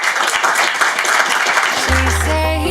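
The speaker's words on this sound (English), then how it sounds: "We have to give these two a round of applause." Crowd applause for two indie musicians at a Rochester spotlight event, steady clapping throughout, with a low sustained musical tone entering near the end under the clapping.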